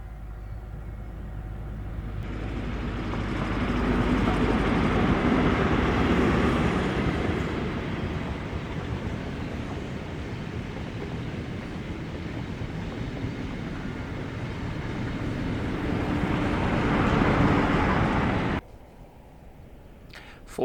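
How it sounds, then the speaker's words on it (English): Class 47 diesel locomotives in back-to-back formation haul a ScotRail coaching set out of Foley Park Tunnel at a Severn Valley Railway diesel gala, a heavy rumble and clatter building and lingering for most of the passage before cutting away. "see these power cars in back-to-back formation hauling the ScotRail set, with Mark IIF DBSO 9707 and 47712 Lady Diana Spencer on the rear as they leave Foley Park Tunnel."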